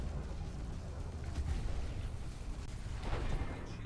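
Multi-cannons fire at a ship in the space combat video game Elite Dangerous, producing a continuous, rumbling barrage of rapid thuds and booms with no pauses.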